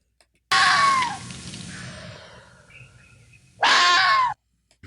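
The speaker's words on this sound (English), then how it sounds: "It is the scream of a red fox." Two harsh, piercing screams from a red fox, each about a second long and separated by a quiet pause with faint birds in the forest background, loud and close.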